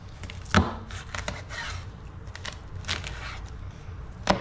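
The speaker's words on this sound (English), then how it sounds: "for cutting crosswise here. And you could use a fillet knife, or you could use a really super sharp knife" A very sharp knife slices edible cactus paddle crosswise into small squares, producing a few soft, faint chopping taps on a board spaced irregularly amid quiet background.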